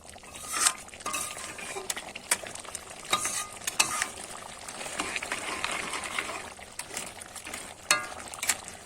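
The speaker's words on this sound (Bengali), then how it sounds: "এবারে কিন্তু আমি একটু গরম মশলা ছড়িয়ে দেব নিয়ে একটু নেড়ে দেবো" Spiced crab curry stirred in a pan with garam masala, soft clattering scrapes and stirs repeating through a low sizzle, close and fairly quiet, without speech.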